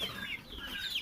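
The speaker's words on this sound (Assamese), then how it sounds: "আৰু সেইফালে মুৰ্গী চানা আছে চাগে" Free-range desi chickens cluck softly in a brief, faint burst on a poultry farm in Rangia, Assam, a few scattered clucks with no talk.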